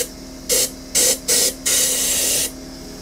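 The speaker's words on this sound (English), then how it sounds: "I think I need to get the air compressor to blow this out." An air compressor nozzle blows dust out of a wood-turned kitchen canister in four sharp hissing bursts, three short ones followed by a longer blast of nearly a second, all close and loud.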